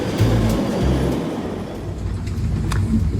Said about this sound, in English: Quand tu prends le train en Allemagne,